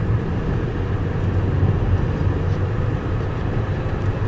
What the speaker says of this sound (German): hören wir noch ein bisschen Fahrgeräusch.